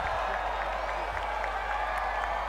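A packed MotoGP grandstand at the 2018 Thai Grand Prix roars and claps as riders cross to the podium: a constant, far-off crowd roar with a steady low rumble and faint rhythmic swells.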